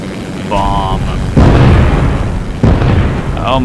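Bombs dropped from an aircraft in the video game Simple Planes burst in two heavy booms about a second apart, over a steady engine drone, with brief voice sounds around them.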